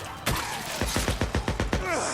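Gunfire in the video game Days Gone: a rapid burst of about eight loud, close shots in quick succession, ending with a brief ringing tail.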